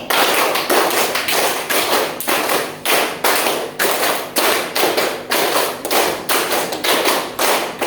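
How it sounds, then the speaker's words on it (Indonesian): Students and teachers in a classroom at a Gorontalo teacher training program clap a five-beat pattern repeated five times, crisp loud claps in tight rhythmic clusters separated by brief pauses. "Tepuk 5 kali."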